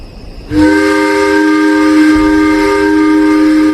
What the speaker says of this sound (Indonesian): Terdengar suara peluit pabrik.